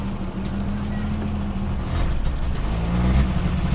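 A Peugeot 505 V6 with manual gearbox idles roughly and pumps as it struggles to run, a low uneven rumble that surges and sags, rising somewhat louder toward the end.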